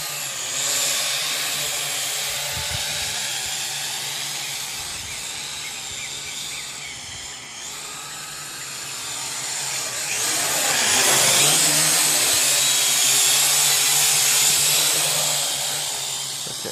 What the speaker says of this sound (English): just hear it going, and flies by and buzzes you